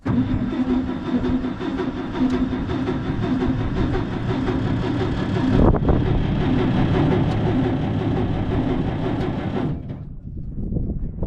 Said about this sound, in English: Crank that fuel pump to prime the carburetor bowl and whatnot.